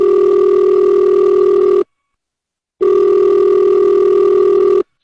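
A telephone ringback tone sounds on an unanswered call: two long, loud, steady electronic tones separated by a clean silent gap, with a third beginning at the end.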